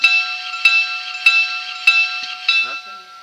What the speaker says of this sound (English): If I hit the bell,